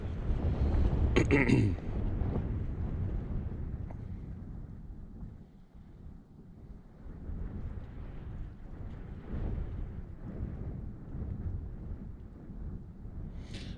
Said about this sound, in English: It's really windy out there.